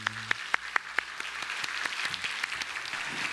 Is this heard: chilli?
no